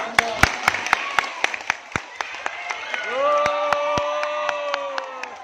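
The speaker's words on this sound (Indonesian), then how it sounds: "Oke, tepuk tangan." Scattered, uneven hand claps from an audience at a school Isra Mi'raj commemoration for the Prophet Muhammad, sharp separate claps with a drawn-out voice rising underneath partway through.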